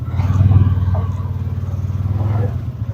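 Tires on a Cfmoto Uforce 800 XL side-by-side rubbing hard while turning, a rhythmic low scraping and grinding under the idling engine, close and steady for a few seconds.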